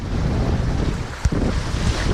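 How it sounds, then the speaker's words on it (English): Wind buffets the microphone out on rough water during a fishing trip, a constant loud low roar with a short thump partway through, and no voices. "I apologize for the wind"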